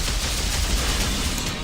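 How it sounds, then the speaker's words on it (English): A rotary cannon in the VR game Overload fires in a continuous, loud, dense stream of rapid shots at close range, with no pause. "I like how that cannon speeds up its firing rate as you hold the... It's kind of like a rotary cannon"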